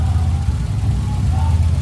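A VW AP 1.8 car engine runs at a steady, low rumbling idle, close and continuous, with a faint whine drifting above it.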